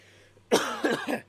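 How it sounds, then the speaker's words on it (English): A single short cough bursts out close to the microphone after a moment of quiet, with a faint low hum underneath. "Sorry, just had to cough again."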